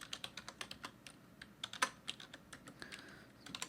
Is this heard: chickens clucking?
no